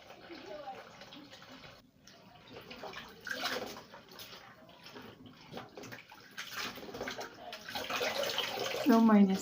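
Tap water runs into a sink while rice or grains are rinsed for soup, a steady splashing flow with swishing of the rinsing, under a voice talking.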